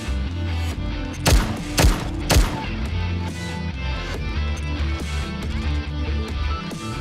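Gunfire in the NIKKE: Goddess of Victory video game, heard as a few sharp, loud shots over a dense, steady backdrop of game music and effects, with no voices.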